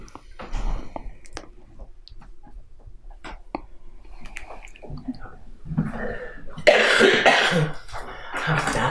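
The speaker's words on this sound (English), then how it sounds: "I needed to cough." One person coughs a few times indoors, short throaty bursts spread across a quiet room with faint breathing and small clicks between them, close to the listener.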